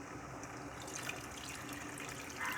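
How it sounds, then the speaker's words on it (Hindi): Water pours into a cooking pot of chicken biryani in a home kitchen, a continuous splashing trickle at moderate level that briefly swells near the end. "और ये 1 कप पानी था, 1 कप पानी में और डालूँगी"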